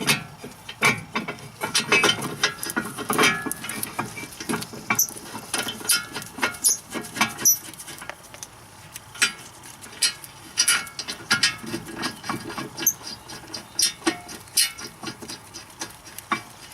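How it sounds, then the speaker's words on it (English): A ratchet tightening the brake caliper bolts on a BMW E36 3 Series during a front pad and rotor job: quiet, close clicking in irregular runs for about seventeen seconds, with no talking. "once you get them in place, make sure you tighten them up"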